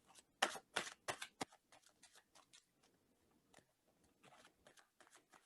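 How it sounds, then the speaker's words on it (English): Tarot cards being shuffled by hand in a series of quick, crisp riffles and soft slides, louder and denser at the start, then lighter scattered flicks, with no talking. "I'm going to shuffle these cards on your behalf."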